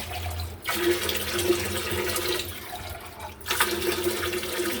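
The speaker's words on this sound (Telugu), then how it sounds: "మరి కొంచెం వాటర్ వేస్తాను." Water pours steadily into a cooking pot, a continuous splashing rush with a brief break partway through and no voices.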